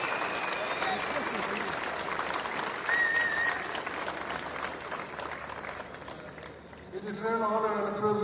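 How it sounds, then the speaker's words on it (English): A crowd applauds two champions after a tennis final at a Tamil Nadu tennis event. The clapping is dense and steady, with a voice speaking over it, and speech grows clearer at the end as the noise thins. "we make a round of applause for these two champions who played today in this final"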